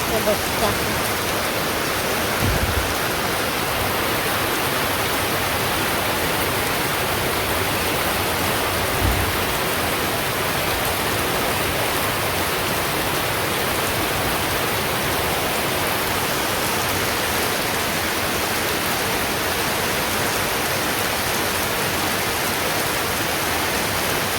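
Steady rain falls outdoors as a dense, unbroken hiss that stays loud and even throughout, with a couple of faint low thumps underneath.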